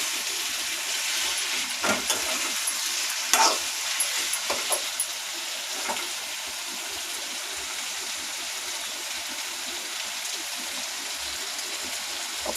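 Brinjal pieces sizzle in hot oil in a pan, a steady close hiss of frying, with a few soft scrapes and knocks as they are stirred.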